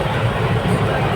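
A train engine at a railway station gives a steady, dense low rumble with broadband noise, continuous and fairly loud for about a second.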